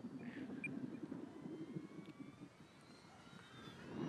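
E-Flite Pitts S-1S 850mm RC biplane flying overhead outdoors, a steady electric motor and propeller drone at moderate distance, holding level throughout with slight swells, no talk.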